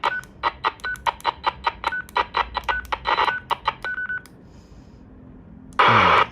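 A SENDER SD-888H amateur radio transceiver powers on with a quick run of short electronic beeps of varying pitch up close, then a pause, then a sudden burst of static-like noise.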